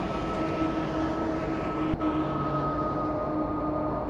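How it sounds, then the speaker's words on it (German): A class 232 Ludmilla diesel locomotive in the video game Train Simulator hauls a regional train, giving a steady, heavy engine drone with rolling rail noise and a single brief clunk midway, with no talk. "Und der Zug wird gezogen von einer Diesellokomotive, Baureihe"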